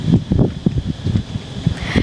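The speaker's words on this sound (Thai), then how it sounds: "อยู่ริมทะเลมันมีลมมีลม" Seaside wind in Phuket buffets the microphone in uneven low rumbling gusts, a series of close, thumping bursts rising and falling in quick succession.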